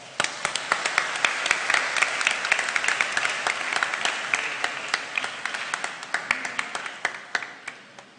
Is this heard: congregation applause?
yes